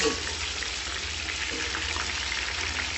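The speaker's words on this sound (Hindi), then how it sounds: "इसको जो है अच्छी तरह फ्राई कर लेंगे।" Chicken frying in a pot for pulao, a steady dense sizzle with fine crackling that holds evenly throughout, close and fairly loud with no talking.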